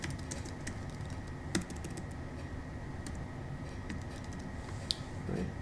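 Light, scattered taps of typing on a keyboard, entering a password and name during an iOS email setup, faint and irregular over steady background noise with no talking.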